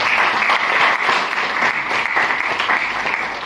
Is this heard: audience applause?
yes